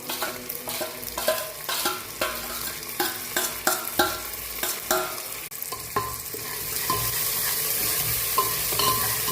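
Chili and ginger sizzle in a dark-browned tadka for a Punjabi rajma and potato dish, with steady close frying hiss broken by repeated sharp stirring scrapes of a spoon against the pan, no voices.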